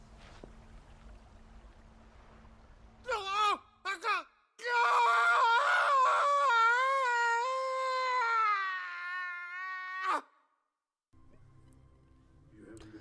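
A character in Final Fantasy 16 screams, with a couple of short vocal bursts followed by a long, loud, wavering scream lasting several seconds before it cuts off abruptly into quiet background sound.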